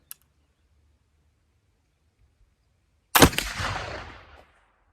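A black powder gun loaded with Osage orange charcoal powder fires a single sharp, loud report followed by a fading rumble, after near silence.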